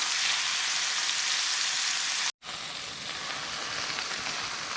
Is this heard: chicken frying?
yes